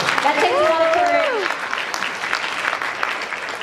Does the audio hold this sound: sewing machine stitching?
no